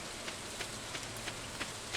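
Steady rain hiss from the Stardew Valley video game, an even wash of falling-rain noise with soft, regularly spaced ticks recurring roughly every third of a second, quiet and uniform throughout.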